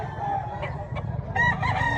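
A rooster crows at a gamecock expo, one strained crowing call rising over a busy, noisy background of other fowl and crowd chatter.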